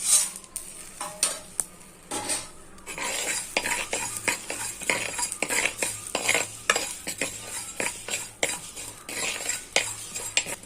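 Coriander seeds and black peppercorns dry roasting in a bare pan without oil, stirred with a metal spoon that scrapes and clinks repeatedly over a faint dry sizzle, close and busy, no speech.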